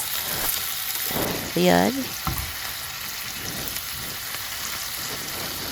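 Corned beef frying in a pan for a Filipino breakfast, giving a steady sizzle with stirring scrapes, briefly under a spoken voice.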